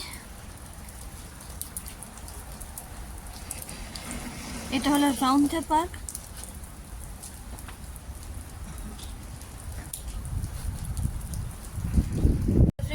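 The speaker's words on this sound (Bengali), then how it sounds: "বাইরে প্রচণ্ড জোরে বৃষ্টি পড়ছে" Heavy rain pours steadily beside a mansion in Roundhay Park, Leeds, UK, a loud constant hiss, with a person speaking briefly midway and rumbling wind or handling noise near the end.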